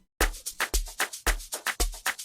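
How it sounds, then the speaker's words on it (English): Amapiano shaker loop programmed in Caustic 3, a crisp, steady electronic shaker pattern with a regular rhythmic pulse over a short repeating cycle, loud and close with no voices. "which I have my first shaker loop"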